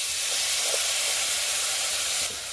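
Washed rice hitting hot ghee in a wok gives a loud, continuous bright sizzle and hiss that eases slightly near the end, with no voices.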